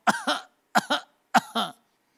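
A voice imitates a small child's cough: three pairs of short, hoarse double coughs, evenly spaced and close.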